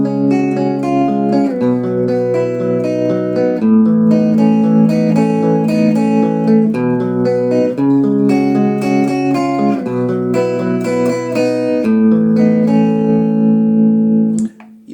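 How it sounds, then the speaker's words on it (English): Electric guitar run through a Kamisi tremolo pedal set for a vintage Fender-style tremolo, playing sustained chord changes loud and close with a steady pulsing shimmer, no voices, cutting off sharply at the end. "it's a tremolo pedal, you know, simulating the old Fender tremolo effect"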